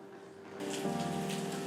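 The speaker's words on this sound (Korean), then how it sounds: "빗소리가 들리는 숲인가요?" Rain patters steadily in a forest setting, a soft, continuous hiss of drops on surfaces heard close and fairly faint, swelling slightly partway through over a faint low hum, with no voices.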